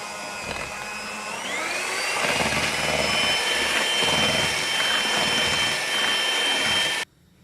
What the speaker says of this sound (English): Then we're going to get an electric whisk and we're just going to start whisking it up.